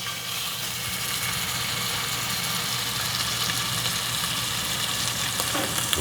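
Steak searing in a skillet over high heat, giving a steady, loud, close sizzle and crackle that holds evenly throughout with no talking.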